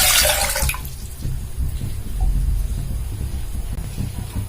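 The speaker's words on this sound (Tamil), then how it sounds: "இந்த செம்புக்கு ஒரு செம்பு அளவுக்கு வந்து தண்ணி ஊற்றுறேன்" Water splashes briefly into a copper vessel for hibiscus tea, a loud hissing pour lasting under a second, then dropping to a low, murmuring rumble.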